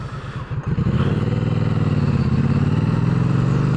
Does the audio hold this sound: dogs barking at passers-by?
no